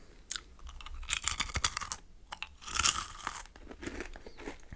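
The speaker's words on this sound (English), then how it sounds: "I got some Chicago mix popcorn" Chicago mix popcorn is eaten close to the microphone: quiet, irregular crunching bites and chewing come in short clusters, with brief pauses between mouthfuls.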